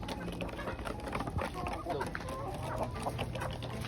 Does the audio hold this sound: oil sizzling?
no